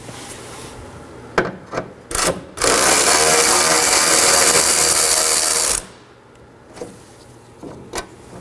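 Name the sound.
10mm wrench removing headlight bolt on Nissan Sentra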